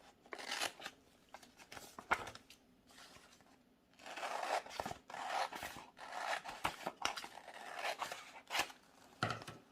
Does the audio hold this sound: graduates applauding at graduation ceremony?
no